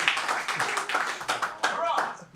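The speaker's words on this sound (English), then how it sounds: "I think that deserves a round of applause." Applause from a small gathering after a host's call for it, a short burst of scattered hand claps with voices mixed in over about two seconds.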